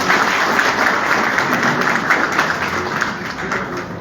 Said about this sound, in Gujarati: આપણે ફરીથી યુવરાજભાઈ માટે હજી એક તાળીઓ આપીએ